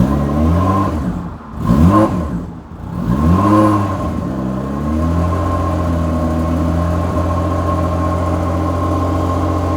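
A Mitsubishi FTO engine with a broken rear exhaust revs twice, rising and falling in loud swells, then settles to a steady, rough, droning run close by.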